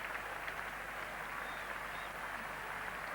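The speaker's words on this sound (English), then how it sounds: "Well, the Slorts crowd have taken Tony Greig to the hearts, getting another fine reception." The Lord's cricket crowd applauds batsman Tony Greig as he comes in during the 1975 England v Australia Test match. The clapping is faint and distant, a steady wash of applause on an old broadcast recording.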